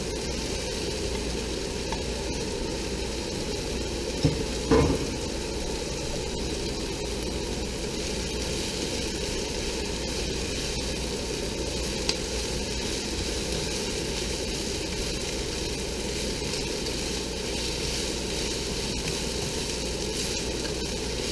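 Cabbage, carrots and onions stir-frying for Chinese fried rice, producing a constant loud hissing sizzle throughout with one brief knock of a utensil, no speech.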